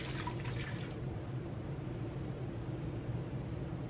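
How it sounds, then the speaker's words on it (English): Water, 300 grams, is poured from close by into a mixing bowl for bread dough, a steady splashing stream that briefly brightens at the start and then settles into a continuous low gurgle. "I have 300 grams of water. Just pour it in there."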